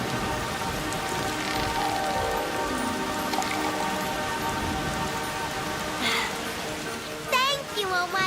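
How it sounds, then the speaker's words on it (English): Cartoon rainfall, a steady hiss of drops close by with a sustained musical score and a few bright sound effects over it. "I will make it rain."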